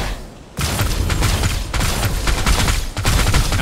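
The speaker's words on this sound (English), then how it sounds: "I can hear deafening cannon fire coming from the bulwark's core." Heavy cannon barrage in the Torchlight Infinite video game, booming near and loud in dense, continuous volleys after a short quieter lead-in, with brief dips between bursts.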